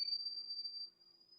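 A kettle whistles as water heats for coffee, giving a thin, steady high-pitched tone that holds without a break. It is faint and heard alone, with no talking.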